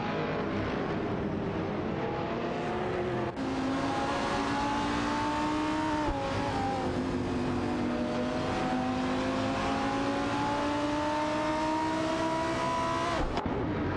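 AI-driven race cars, including a Ferrari F360 GTC and an Aston Martin, speeding in a racing video game, engines wailing at high revs with steady pitch climbs and sharp gear-shift drops, loud and continuous.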